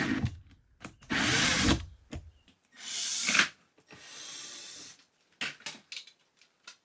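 A cordless power drill backs screws out of an RV shroud in several bursts of whirring, one long run near the start and another in the middle, with short taps and clicks of handling between them. No one speaks.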